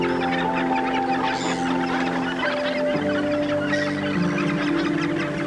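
Gannets packed onto Scottish nesting cliffs keep up a steady din of grating, overlapping calls from many birds, near and constant throughout.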